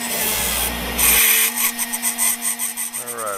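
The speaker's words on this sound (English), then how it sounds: "I'm using a 36 grit 1x30 belt. It takes off quite a bit in a hurry." Belt grinder running a 36 grit 1x30 belt against a knife blade, a close, harsh abrasive hiss over the machine's steady hum, with short rhythmic pulses of grinding pressure.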